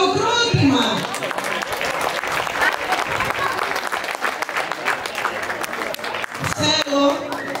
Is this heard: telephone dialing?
no